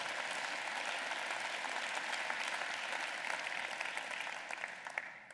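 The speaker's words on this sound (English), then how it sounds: "That does deserve a round of applause." A room full of people applauding during a university president's address at Drake University, steady dense clapping that holds level and then thins and fades toward the end.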